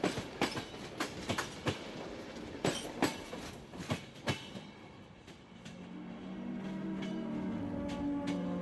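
A train running on rails, heard from inside a carriage: a steady series of sharp rhythmic wheel clacks over rail joints, then a smoother rising rumble with a faint squeal as it rolls on, no voices.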